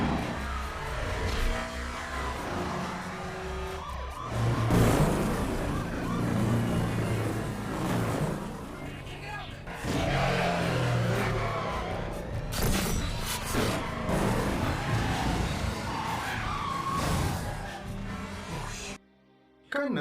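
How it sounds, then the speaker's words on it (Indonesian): Cars race and rev through a police chase in an action film, with a helicopter firing on them. Loud, dense engine roar and crashing effects run almost without a break, then cut out briefly near the end. "Connor dan Roman segera tancap gas menuju landasan"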